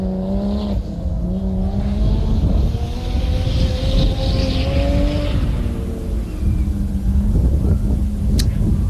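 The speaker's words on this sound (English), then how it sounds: "those trophy trucks, mate. They sound like a monster." Class 4 off-road race trucks tearing past at an outback desert race, loud sustained engine roar with rising and falling pitch as they pass close by, no voices over it.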